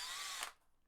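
A power drill whirs briefly as it backs out the screws of a guitar scratch plate, a short high motor whine that cuts off abruptly.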